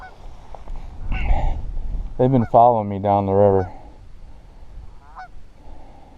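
Several loud goose honks ring out in a quick series, outdoors by a river, with a person speaking briefly beforehand.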